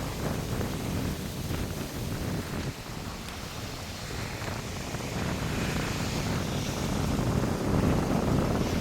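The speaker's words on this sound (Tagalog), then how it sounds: "May naispatan tayong eroplano." An airplane flies overhead along an ocean coast, a low broad engine drone that builds steadily in loudness under gusty wind noise, with no talking.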